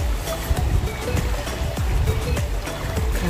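Ocean waves break and wash against the rocky coast at Canal Rocks near Margaret River, Western Australia, with a steady broadband roar, repeated surges and wind noise, close and continuous, with no talk.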